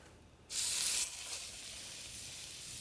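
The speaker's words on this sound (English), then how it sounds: "we're getting as hard and good of a sear as possible on that without bringing it past medium rare ideally" Hamburger steaks hitting a hot pan with oil: a sudden loud sizzle bursts out, then settles into a steady, close hiss of searing meat, with no talking.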